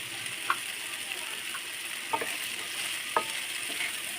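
Okra frying in a pan with a cooked-down spice mix, a soft continuous sizzle close by broken by a few sharp scrapes and clinks of a spatula stirring, with no talk.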